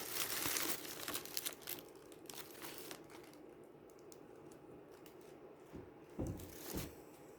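Tissue paper inside eco packaging crinkles and rustles up close in a string of crisp, irregular bursts, louder at first and then softer with scattered handling sounds.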